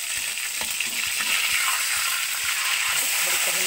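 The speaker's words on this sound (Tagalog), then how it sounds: "At ayan na nga, ang bangus na piniprito ko." Boneless bangus milkfish frying in hot oil gives off a dense, continuous sizzle and crackle with faint spattering pops, steady and close throughout.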